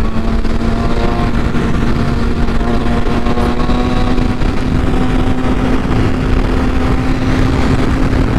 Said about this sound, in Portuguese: toca direitinho a moto, olha lá, fazendo a curva